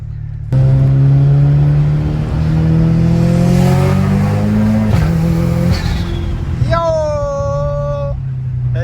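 An Audi S3 engine revs hard, droning up and down loud and close, then rises to a whistling turbo flutter near the end.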